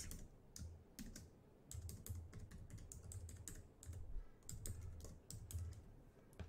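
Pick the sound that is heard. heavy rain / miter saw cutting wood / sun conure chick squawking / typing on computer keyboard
typing on computer keyboard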